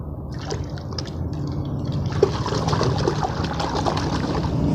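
Water splashing and trickling close by as chickens are bathed, growing steadier and fuller partway through, like a stream poured over them with light fluttering underneath.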